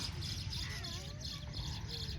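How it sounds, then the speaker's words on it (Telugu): Several birds chirp and whistle in short, repeated calls from a tree about twenty feet away, over a low background rumble, fairly faint. "చూడండి పక్షులు అలా అరుస్తున్నాయో"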